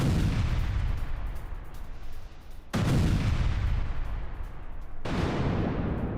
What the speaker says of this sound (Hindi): अमेरिकी बमबारी में नेवी की ये बोट नष्ट हो गई है